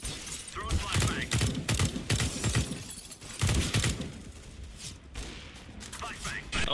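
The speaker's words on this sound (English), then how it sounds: "Throwing flashbang." Sharp bursts and shattering cracks from a flashbang grenade and gunfire in a tactical shooter game, several loud hits clustered together while a player's voice talks through them.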